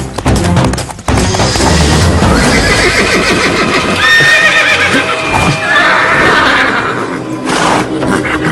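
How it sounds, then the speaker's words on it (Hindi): Loud horse neighing in an animated adventure about King Vikram and Munja, several shrill whinnies with hoof clatter over a dense music score. "ना जाने इस घोड़े को क्या हो गया है"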